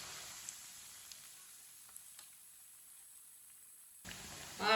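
Fenugreek kebabs fry in a pan, a soft, even sizzle held close and fairly faint, broken by a few small ticks, before a louder shuffle at the end.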